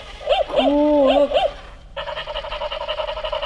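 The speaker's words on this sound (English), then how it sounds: "And the doggy barks." A white toy robot puppy's electronic barks and yips, a short series of synthetic woofs, followed by a buzzy mechanical whirring motor sound.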